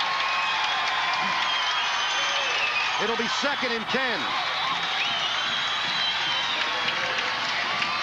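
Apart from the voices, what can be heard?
football stadium crowd roaring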